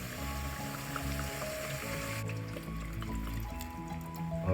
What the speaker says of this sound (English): Add in some water here.